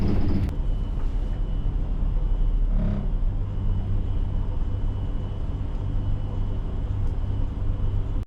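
Car on a time-attack run around the slippery winter Nemuno žiedas circuit, a steady loud engine rumble and road noise droning continuously throughout with no one speaking.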